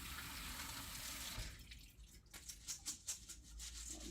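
Rinsed black beans draining, a steady rush of running water that thins into scattered drips and splashes near the end, fairly quiet and with no talk.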